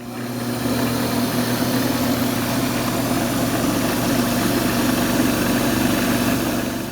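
Wood lathe spinning a turned piece as 1200 grit sandpaper is pressed against it, a steady motor hum with a broad rushing sanding hiss held constant and close, without talk.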